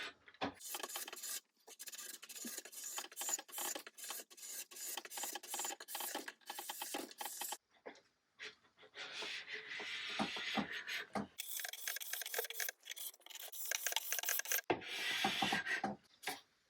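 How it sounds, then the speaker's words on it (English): Repeated rough rasping strokes of sanding varnish off a wooden chair, steady and close, with brief pauses between bursts of scraping. "Let's do some sanding."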